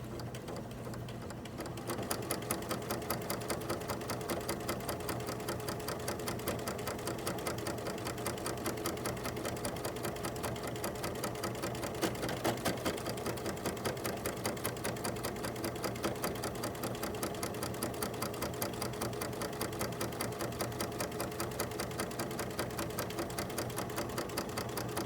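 Sewing machine running low on bobbin thread, a steady rapid mechanical clatter of the needle and feed going continuously for a long stretch at moderate close level.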